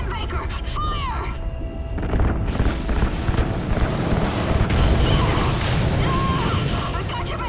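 Rocket fuel lines igniting and explosions in the Call of Duty: Ghosts video game, a dense, continuous roar of booms and bursts with weapon fire, loud throughout, while voices shout over it.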